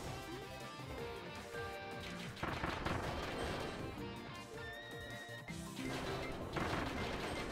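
Rapid gunfire from the video game Kirby and the Forgotten Land, bursts of loud shots and crashing impacts layered over game music.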